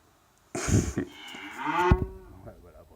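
Recorded cow moo played back by a home automation assistant, a single loud, drawn-out bovine bellow with falling pitch, heard alone and close.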